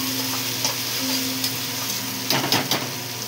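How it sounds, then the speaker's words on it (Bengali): Ginger-garlic paste frying in a pan for a Bengali prawn dish, a continuous close sizzle with a few quick stirring scrapes and clinks of a spatula near the end. "লাল লাল করে ভেজে নেব"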